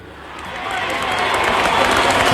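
A crowd of 85,000 at the MCG cheers and applauds as Dustin Fletcher runs out for his 400th game, a dense roar of clapping and shouting that builds steadily louder and stays sustained over the short span.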